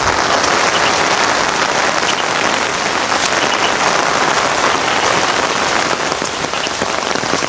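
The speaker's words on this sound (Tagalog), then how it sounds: "Kaya lang umulan." Steady, dense rain pours down on a dwarf coconut farm, a close, even hiss of drops hitting leaves and ground that stays loud and unbroken throughout, with no talking.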